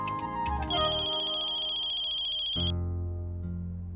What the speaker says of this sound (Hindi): देवयानी बहन फोन कर रही है